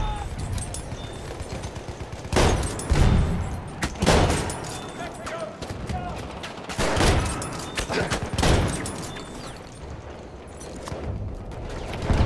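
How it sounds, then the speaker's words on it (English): Dynamite goes off in a Battlefield 1 match as a string of heavy blasts over constant battlefield gunfire, several loud bursts spaced a second or two apart, with a voice talking underneath. "So, how about some dynamite kills?"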